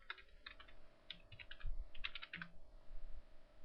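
Fingers tap a computer keyboard in short, irregular bursts of quiet key clicks with brief pauses between them, heard close against a faint background hum.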